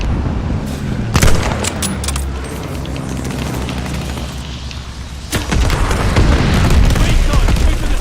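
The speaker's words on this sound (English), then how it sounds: "Friendly bombing run inbound." Friendly bombing-run explosions in Call of Duty: Vanguard: loud, booming blasts with rumbling low end, including a sharp burst early and another heavy impact later, over continuous battlefield noise with speech in the mix.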